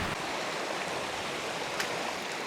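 A mountain brook flows through a remote valley, giving a steady, even rush of water that stays loud and unbroken throughout, with no voices.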